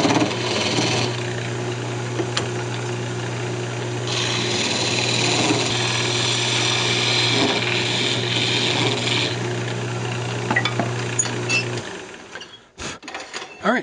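A wooden rattle spins on a lathe, giving a steady, loud motor hum with a scraping cutting texture over it that swells for a few seconds in the middle and then stops near the end.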